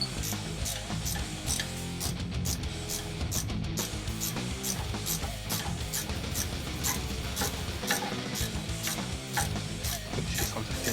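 A BPW trailer brake slack adjuster ratchet clicks through a long, quick run of sharp, evenly spaced metallic pawl clicks close up over a low mechanical hum, with no voices.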